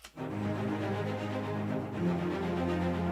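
Deep, sustained orchestral low strings hold long notes, swelling gently and shifting pitch around the two-second mark, with no talking.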